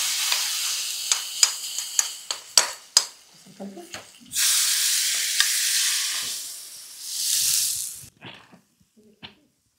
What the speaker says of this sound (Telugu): ఇలా వేసుకున్న తాలింపుని మన రసంలో వేసేయండి.